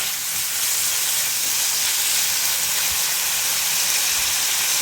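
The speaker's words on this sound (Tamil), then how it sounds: "இப்போ அங்கிட்டு வெங்காயம் வதங்குது" Onions sautéing in a pan for fish biryani give off a steady, loud broadband sizzle and hiss that holds evenly throughout, with no voices over it.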